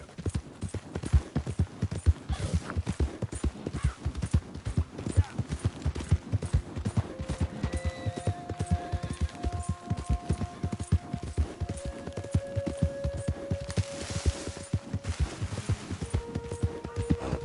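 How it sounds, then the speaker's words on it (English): Horse hooves clip-clop in a steady, quick rhythm in Red Dead Redemption 2, close and continuous, with a few faint tonal game sounds layered over the galloping. "My horse! Am I glad to see you?"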